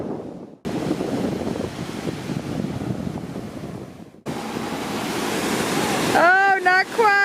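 Ocean waves washing onto a beach, a steady rushing surf with wind buffeting the microphone, cut by a brief gap, then bright high voices calling out near the end.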